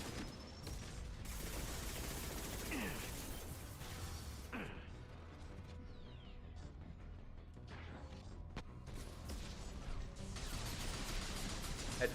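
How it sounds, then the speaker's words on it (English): Bursts of enemy machine gun fire in the Mass Effect video game, rattling in clusters with gaps between volleys, mixed with impacts and whooshes over a steady game backdrop, at a moderate level. "You can wait out his machine gun and hit him in between."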